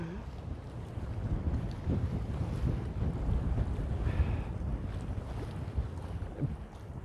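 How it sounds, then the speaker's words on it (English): Cold winter wind buffets a microphone on a fishing outing, making a steady, low, rumbling roar that surges and dips without any speech. "It's that cold and windy."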